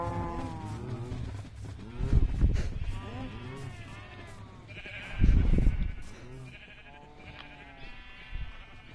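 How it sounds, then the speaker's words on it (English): Minecraft sheep on the Bedrock edition bleat in a couple of short, nasal calls, heard under someone talking casually over the game. "Not gonna bother with the sheep."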